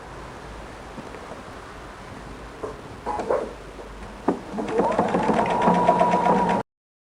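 Sewing machine stitching rag quilt pieces, starting with a few short bursts of stitching and then running steadily and fairly close for the last couple of seconds, with quiet handling noise before it.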